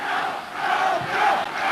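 A large football crowd roars and chants at a 1996 NSL match between Sydney United and UTS Olympic, a broad, sustained swell of voices heard from within the stands with no close talk.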